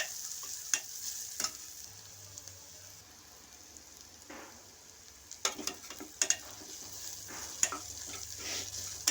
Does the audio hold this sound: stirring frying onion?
yes